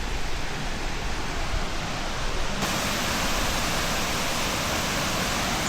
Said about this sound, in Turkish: Pongur Şelalesi bu.